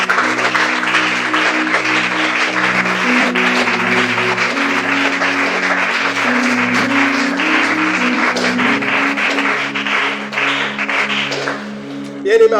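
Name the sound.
congregation applauding in church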